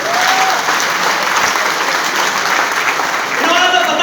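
Dense, loud applause fills a hall at a motivational speech gathering, an even roar of many hands clapping that holds steady throughout, with faint voices rising near the end.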